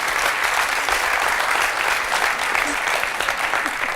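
A crowd applauding a sport dance performance, dense continuous clapping that stays steady and fairly loud throughout, with faint voices mixed in.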